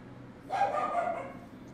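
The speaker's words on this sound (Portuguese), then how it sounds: "Desculpa novamente pelo latido dos cachorros, pessoal." A dog gives one short, moderately loud bark in a room, somewhat distant and alone over low background hum.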